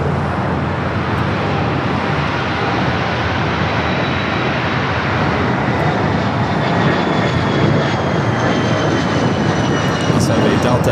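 Flight 482 to Orlando, a jet airliner, takes off in a continuous loud engine roar that fills the whole stretch, with faint radio-like chatter mixed underneath.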